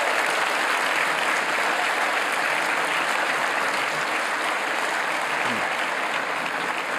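Sustained, dense applause and cheering from a large audience greeting Emily Schrader at an October 7 event, loud and steady throughout with no talk over it.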